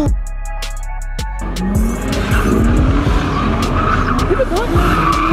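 A car drifting at a street car meet, tires squealing and skidding loudly over a roaring engine for several seconds, with a crowd cheering and shouting throughout.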